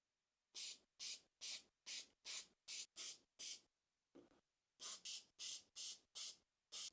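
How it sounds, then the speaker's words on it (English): Quick bursts of lacquer from an aerosol spray can onto wooden triangles, about a dozen short hissing sprays in an even rhythm with brief gaps between, close by. "Now that everything's dry, we'll just do a spray-on lacquer."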